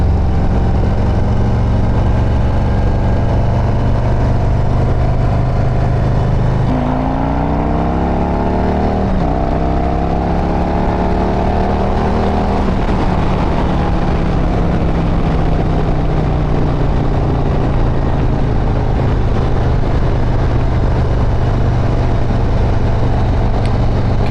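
Harley-Davidson motorcycle with a Stage III 122 kit cruising in third gear at about 3,000 RPM on back roads, a loud steady engine drone with rising pitch sweeps as it rolls on, heavy wind rumble throughout and no talking.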